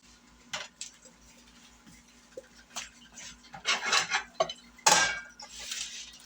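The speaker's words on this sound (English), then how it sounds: "now I'm going to get a mixing bowl" A mixing bowl is taken out and set down in a home kitchen: scattered clinks and rubbing scrapes build to a louder clatter near the end, close by, with no talk.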